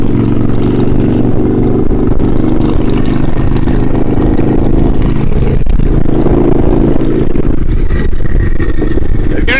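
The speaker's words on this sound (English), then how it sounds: "this is the Virago 535. Yeah, it's got the Black Widow drag pipes on it." Yamaha Virago 535 motorcycle fitted with Black Widow drag pipes, ridden with a loud, continuous throaty engine drone close to the microphone, wind noise mixed in, steady throughout.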